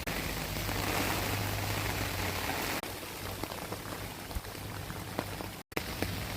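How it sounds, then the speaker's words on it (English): Steady rain falling on waterlogged countryside ground during a hurricane storm, a continuous dense hiss of drops with a low hum beneath, briefly cutting out near the end. "So it is raining again."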